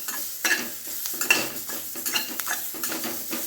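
A thick paste of coconut, garlic and coriander is sautéed and stirred in a pan. A spoon scrapes and clatters repeatedly against the metal over a light sizzle, close and with no talk.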